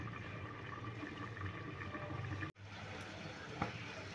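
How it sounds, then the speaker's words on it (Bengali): Water simmers down in a lidded pan as mourala fish cooks wrapped in bottle gourd leaves over medium heat. A faint, steady bubbling hiss continues throughout, with a brief cut partway through and one small tap. "মানে আওয়াজে বোঝা যাচ্ছে জলটা অনেকটাই মরে গিয়েছে"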